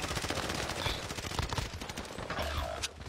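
PPSh submachine gun fire in the Warzone video game, a dense, continuous rattle of rapid shots running for about three seconds amid other battle noise, with no talk.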